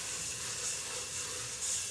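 Butter and marshmallows for Rice Krispie treats sizzle in a pot, a soft, steady, fairly faint hiss that runs continuously with slight swells.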